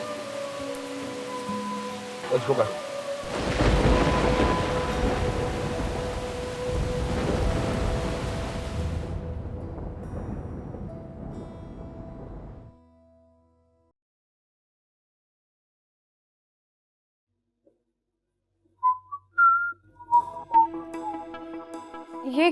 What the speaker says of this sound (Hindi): ये सिर्फ बारिश नहीं है, ये आंधी है